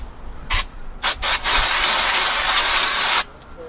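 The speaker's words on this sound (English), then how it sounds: "what I'm using is just a basic brake cleaner from AutoZone." A can of basic AutoZone brake cleaner sprays onto car brakes, with a few short close bursts followed by a loud, steady hiss of almost two seconds, then stopping.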